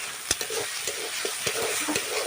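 Spices, including red chilli powder, sizzle in hot oil in a pan for a soybean curry, giving a steady close hiss broken by scraping stir strokes from a spatula, with no voices.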